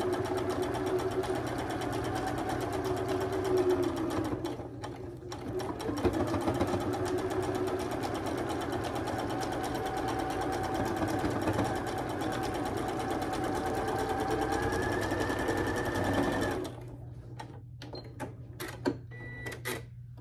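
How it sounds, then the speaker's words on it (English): Sewing machine stitching a quilt block, a close, fast steady chatter of needle strokes running continuously for about sixteen seconds before stopping, followed by a few faint handling clicks. "So we're going to sew down this side."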